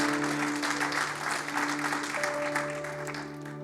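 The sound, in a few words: church congregation applause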